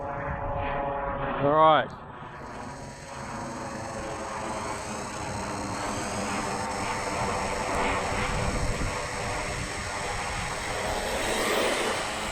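WLtoys 104001 brushless RC car on 2S with stock gearing, a high motor whine that rises sharply and then settles into a sustained buzzing drone as it runs at a distance; a person speaks briefly near the start.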